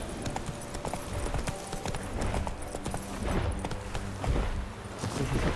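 Roach, the horse in The Witcher 3, gallops with continuous rapid clip-clop hoofbeats at a steady fast pace, loud and close, with no talking.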